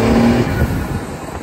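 A truck engine revs loud and close through its exhaust, a rough throaty roar that swells and then settles into a lower rumble.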